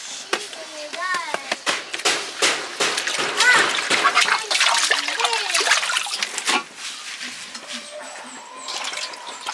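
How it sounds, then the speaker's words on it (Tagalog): Wild bitter gourd is washed by hand in water, with repeated close splashes, sloshing and trickles in an irregular rhythm while people talk throughout, including a voice. "Huhugasan lang natin."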